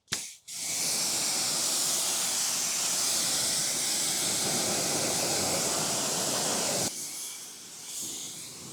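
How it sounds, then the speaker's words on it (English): A pressure-washer spray rinses a car wheel in a loud, broad, continuous hiss that lasts several seconds and then drops to a softer spray near the end. "Let's give this wheel a thorough rinse."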